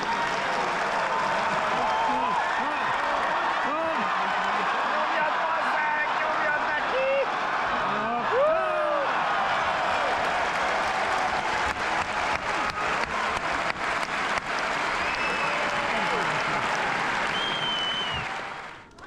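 Audience applause after a quick, straightforward win at a professional sumo event in London, a dense, steady patter of many hands clapping throughout, close and loud, with crowd murmur mixed in.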